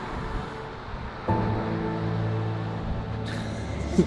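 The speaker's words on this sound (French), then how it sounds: "Regardez les vagues." Ocean waves wash steadily at a distance during a trip across Quebec. A soft, continuous surf rushes under wind with no voices, and a short bump comes near the end.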